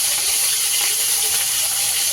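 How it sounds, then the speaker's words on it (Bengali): Rohu fish frying in hot oil in a home kitchen makes a steady, loud, unbroken hiss and sizzle that holds evenly from start to finish. "চলুন মাছ ভাজা শুরু করি তেল গরম হয়ে গেছে"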